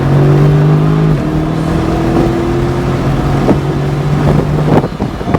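A race car accelerates on a track during an Xtreme Xperience driving session, its engine a loud, steady drone that climbs in pitch through the gears, with heavy wind buffeting and no talk.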